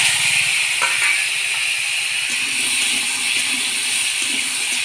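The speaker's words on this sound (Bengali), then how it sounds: "করলা ভাজা তেলের মধ্যেই আলুগুলো দিয়ে দেব।" Potato pieces hiss and sizzle after being added to hot oil left over from frying bitter gourd. A steady, dense frying hiss holds throughout, with faint clatters of stirring underneath.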